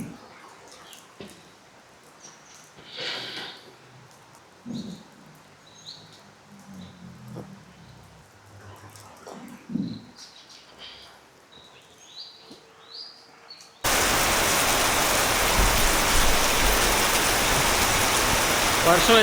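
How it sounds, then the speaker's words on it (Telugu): Heavy monsoon rain in Kerala pours down loud and steady in the final stretch, after a quieter opening of scattered bird calls and soft patter, with no one speaking. "వర్షం అయితే మామూలు పడట్లేదు,"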